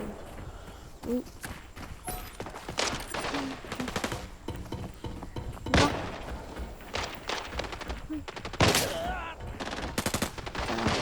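Video-game gunfire in a shooter crackles in rapid bursts and single loud shots, close and dense, with footstep-like clatter and the occasional voice in the background.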